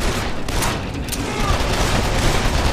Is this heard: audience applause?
no